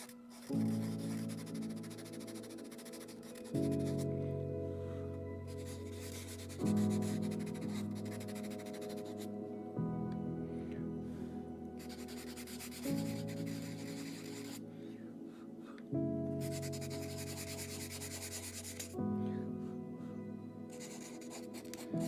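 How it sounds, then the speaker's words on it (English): Sandpaper rubs over wood in a woodcraft session, sounding as repeated close rasping strokes of about three seconds each, with short pauses between them and no talking. "using sandpaper to lighten up some uneven dark splotches, and it is kind of helping now that I think about it"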